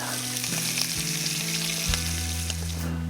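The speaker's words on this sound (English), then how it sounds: "frying bacon" Bacon sizzles and crackles steadily in a hot pan at a hunting camp in the Alaskan bush, close up and continuous, over a low droning hum.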